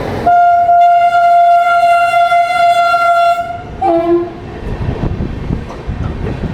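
A Shiv Ganga SF Express train, number 12559 on the Banaras to New Delhi run, sounds a long, loud, steady horn blast for about three seconds. A short second honk follows, then the rumble and clatter of the passing train.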